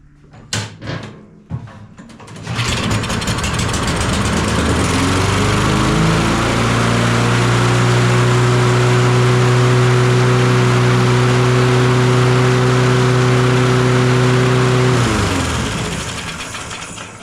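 Kohler engine on a LawnBoy push mower, primed with carb cleaner, sputters a few times, then catches and runs steadily at a loud, high idle with strong harmonic drone for about twelve seconds before winding down.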